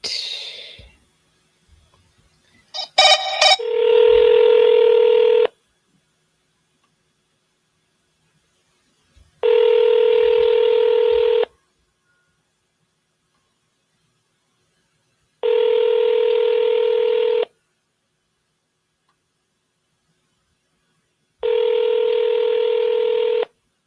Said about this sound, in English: Let me call Michael back